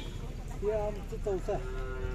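Two or three drawn-out bull moos over a steady outdoor hum at a village fair cattle market in Kagwad, Belgaum, one short call trailing into a longer low bellow near the end.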